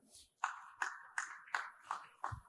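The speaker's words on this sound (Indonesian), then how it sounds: "Baik, boleh beri tepuk tangan." Wedding guests at a church matrimony ceremony at the Jambur Djawata venue give a short, faint round of applause, heard as six or seven evenly spaced claps.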